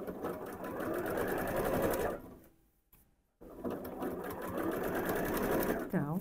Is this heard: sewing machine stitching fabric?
yes